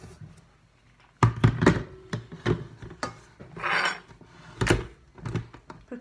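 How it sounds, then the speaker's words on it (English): A blender cover being fitted on: a series of close plastic knocks, scrapes and rubs, irregular and fairly sharp, with brief pauses between bursts. "Let me put on the cover."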